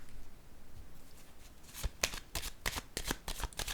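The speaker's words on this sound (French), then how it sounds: "Je vais déposer une carte ici." Playing cards are handled and put down on a table, giving a run of quick, close riffling snaps that start softly and grow denser and louder toward the end, with no talk.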